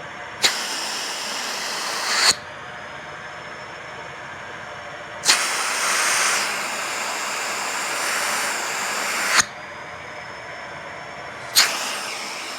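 A Vacmaster 3 gallon dry bagged vacuum cleaner runs during a suction test, switching on and off repeatedly: a loud, steady hissing roar with sharp start-up surges, interrupted by quieter pauses.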